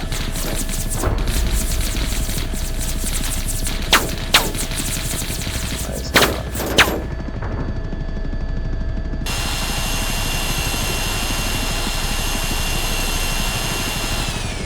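A few distant gunshots pop in the video game BattleBit Remastered, scattered sharp cracks over a constant roaring helicopter engine drone in the game.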